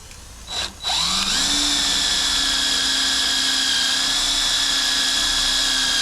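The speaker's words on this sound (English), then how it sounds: "and drill our pilot hole." A power drill boring a pilot hole through clamped-together hinge brackets for a 1967 Chevelle, a loud steady whine that spins up after a brief start and holds continuously, close by.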